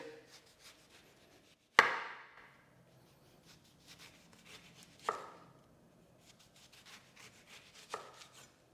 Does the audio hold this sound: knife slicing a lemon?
yes